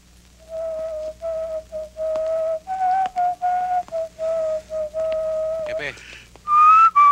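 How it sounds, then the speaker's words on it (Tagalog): A man whistling a tune in an early-1990s Tagalog action film, a series of clear short and held notes with brief pauses, close and fairly loud, ending with a rising swoop and a higher note. "hindi ko kursunad ang tunog ng sipol nun"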